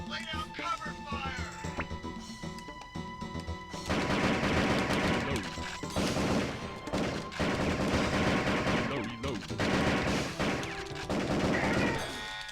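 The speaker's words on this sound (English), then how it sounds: "Sergeant, lay down cover fire." Rapid bursts of gunfire from the PS1 game Area 51, sparse shots at first, then dense sustained volleys with brief pauses, loud and near, while a person talks over part of it.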